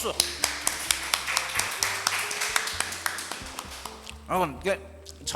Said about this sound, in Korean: 박수! 박수! 박수!